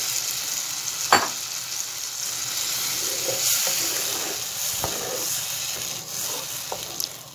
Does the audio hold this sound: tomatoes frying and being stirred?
yes